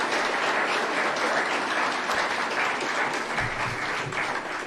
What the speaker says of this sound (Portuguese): Um abraço, uma salva de palmas.